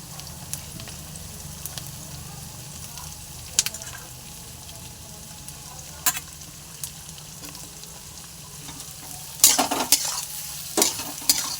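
Capsicum and onion fry in a pan for chow mein, giving a steady close sizzle with scattered stirring clicks and scrapes that grow louder and busier near the end; no one talks.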